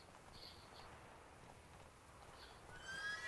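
A wild herd of horses in a video game gallops through a flowery meadow, with faint hoofbeats under soft ambient noise and a couple of distant whinnies.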